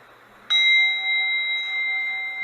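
A bell struck once during a Sunday morning service, ringing out sharply and then sustaining a steady, clear tone that lingers without fading for the rest of the moment, alone with no voices.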